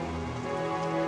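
Rain ambience in the Zelda Parallel Worlds game at night, a steady synthesized hiss layered with sustained tonal game music, brief and continuous with no talking.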